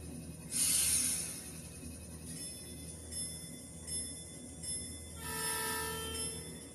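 Two N scale Amtrak P42 Surfliner model locomotives run together on DC power, with a soft, continuous electric motor hum and wheel rumble. Thin horn-like tones sound near the start and again toward the end.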